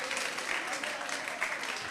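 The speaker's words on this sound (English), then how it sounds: "Please clap for Doctor again. Please clap for her again. Let's clap for her." Audience clapping for a doctor who has just spoken at a 50th anniversary gathering of a Methodist High School Ilesa old students association, moderate and steady with some voices mixed in.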